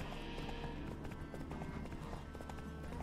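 Roach, Geralt's horse in The Witcher 3: Wild Hunt, clip-clopping at a steady gait over a constant background bed of game ambience, with a faint voice underneath.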